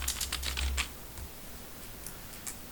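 A quick burst of key taps on a computer keyboard, close and fairly quiet, then a pause and a few scattered keystrokes.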